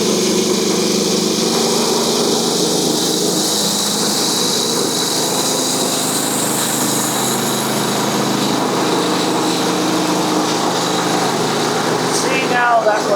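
A sawmill takes a one-inch board off the top of a log, with a loud engine drone and blade whine running steadily throughout and a brief scraping rattle near the end.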